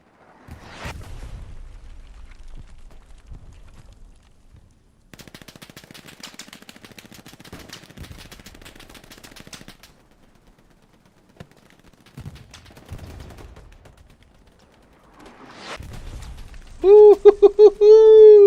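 Artillery and gunfire on a battlefield in the video game Hell Let Loose, heard as distant booms and crackling bursts separated by lulls, with an excited voice whooping near the end.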